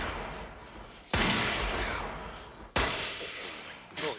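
Three loud rifle gunshots at irregular intervals, each a sudden sharp blast with a long, reverberant tail that fades slowly, heard close with no voices between them.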